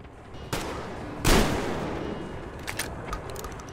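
Gunfire sounds in the post-apocalyptic shooter Metro Exodus: a sharp shot, then a louder booming blast with a rumbling decay, followed by a few fainter, more distant cracks.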